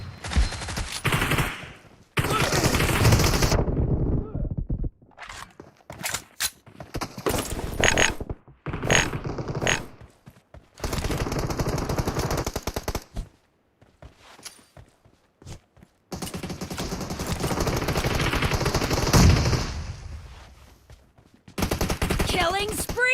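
Bursts of automatic gunfire and single shots from the PUBG Mobile battle royale game, loud and close, coming in repeated volleys separated by brief gaps, with a voice speaking now and then.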